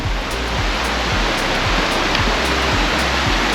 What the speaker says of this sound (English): All you can hear is waterfalls.